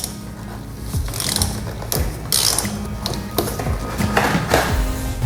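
Ratchet loosening a bolt on the top triple tree of a Suzuki GSXR fork, a series of quick clicking bursts in short strokes, close and fairly loud, with no voices.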